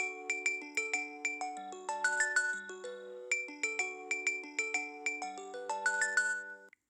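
A ringtone plays on an LG G5 phone, a bright, tinkling melody of quick chiming notes that repeats its phrase twice, faint and clear with no talk over it.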